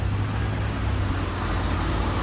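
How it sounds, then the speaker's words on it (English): A bus rumbles close by with a steady low engine drone and road noise that stay loud throughout the short stretch of traffic, and no voices are heard. "There is a bus over here."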